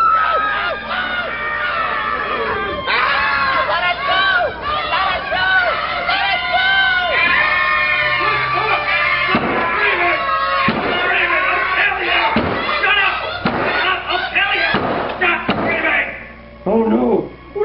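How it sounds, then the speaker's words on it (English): Children scream loudly in an animated Five Nights at Freddy's 3 scene, a dense chorus of shrill overlapping shrieks over about seventeen seconds, broken by a few thuds and slams. "They just wouldn't stop screaming."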